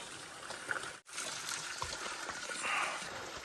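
Flowing water from a trailside stream on the Pacific Crest Trail, heard as a steady close trickling rush with a brief dropout early on.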